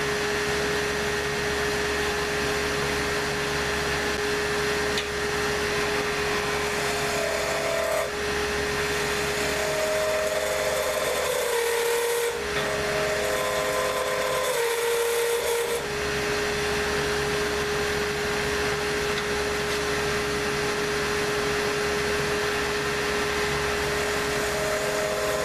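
A wooden pen blank on European-style pen tubing spins on a lathe while a tool cuts lightly at it, a constant loud motor drone with a steady hum and faint scraping, with no talking.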